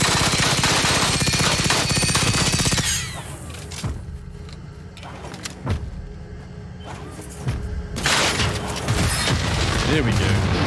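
Sustained automatic gunfire from a full magazine emptied in Generation Zero, loud and continuous, breaking off into scattered single shots and clanks before resuming heavy fire near the end, with a voice talking over it.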